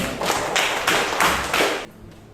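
Students in a classroom applaud a group presentation, a dense burst of hand claps swelling and easing in waves for about two seconds before cutting off.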